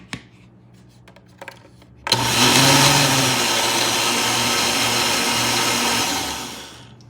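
A blender spins mandarin orange dressing with added sugar, starting abruptly with a loud steady whir after a few soft clicks, running several seconds, then winding down.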